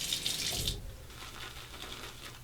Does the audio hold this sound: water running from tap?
yes